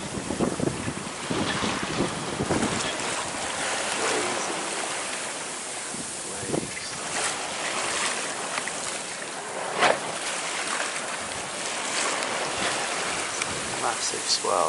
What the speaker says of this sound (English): Massive swell on a really shallow sandbank.